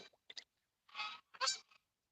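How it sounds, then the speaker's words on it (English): A pet goose honks in short bursts, a few quick calls followed by two longer, louder honks, with quiet gaps between. "I think she's honking at the plane."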